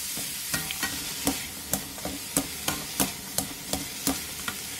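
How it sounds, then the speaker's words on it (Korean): Meat stir-fried over high heat with minced garlic, soju, salt and pepper: a steady sizzle with sharp, regular spatula scrapes and clacks about every half second, close and clear, with no talking. "소주 반스푼, 소금 2분의 1티스푼, 후추를 넣고 센 불에서 볶아주세요."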